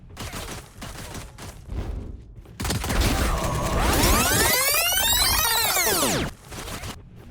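Gunfire in Valorant, a dense sustained burst of rapid shots with sweeping whooshing effects lasting several seconds, loud and close, after quieter scattered game sounds.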